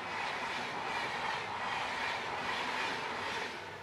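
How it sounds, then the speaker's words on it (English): A train rolls steadily along a railway track, a continuous rumbling clatter of wagons held at an even level for a few seconds before easing slightly at the end, with no voices over it. "हम देख रहे हैं कि बार-बार ट्रेन आए जा रही है"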